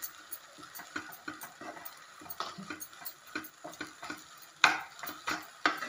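Jaggery is tipped into a pan and stirred over a medium gas flame for Marathi-style aliv laddoos, a faint close-up run of irregular scraping taps and clicks with soft sizzling underneath and no talk.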